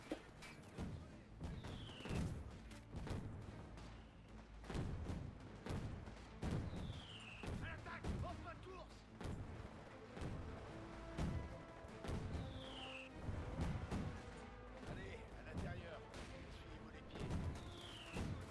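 Repeated heavy thumps and booms from mortar fire on a building in Company of Heroes, spaced a few seconds apart, with whistling streaks and a dense layer of battle noise throughout.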